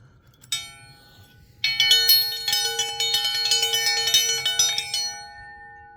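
A small bell rung to call a horse at feeding time rings briskly and repeatedly, bright metallic tones shaken in a quick steady rhythm close by, after a single faint chime at the start.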